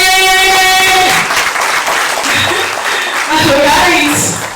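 At a stage drama, continuous applause runs beneath a loud voice calling out over it and music-like tones, the clapping staying dense and steady throughout.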